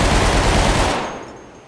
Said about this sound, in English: Then at last we got the combat MG.